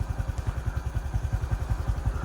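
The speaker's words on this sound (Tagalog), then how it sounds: "At yan yung ating motor." A motorcycle engine chugs nearby with a steady rapid pulsing idle, arriving on a rural road during gold hunting, no talking over it.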